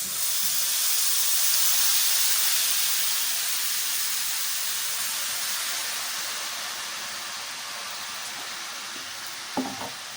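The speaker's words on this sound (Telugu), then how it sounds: "ఇప్పుడు బాగా కాగే ఆయిల్ వేసేసుకోవాలి కొంచెం కొంచెంగా వేసుకోవాలి" Hot oil is poured bit by bit into a flour mixture for a homemade Telugu snack, producing a loud, steady hiss and sizzle that builds early, then eases, with a faint clink near the end.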